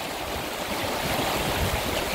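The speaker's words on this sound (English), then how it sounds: "I mean, this is such a beautiful river." The Skeena River flows through a mountain valley, a loud, broad rushing wash of water that holds steady for a couple of seconds with no voices.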